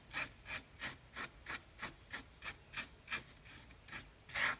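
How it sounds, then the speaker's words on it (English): Close, rhythmic scrubbing of a nylon brush working Dupli-Color vinyl and fabric paint into carpet, about a dozen even bristly strokes at a steady pace with a harder final stroke, no talking. "I'm using a nylon brush to maybe brush this into the carpet"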